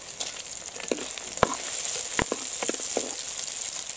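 Five dried red chillies hit a pan of half-cooked onions under a constant bright sizzle, broken by a few sharp ticks and pops as they are stirred in.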